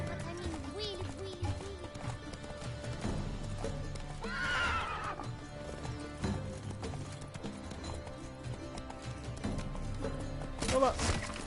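Roach the horse in The Witcher 3 neighs and whinnies loudly amid steady galloping hoofbeats, with game music and a voice speaking over the top.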